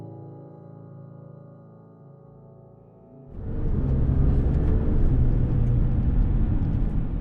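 A supercharged 2013-era Audi A6 3.0T (C7) sedan out on a city street; a low steady hum gives way after about three seconds to loud, continuous engine and road roar as the car gets underway.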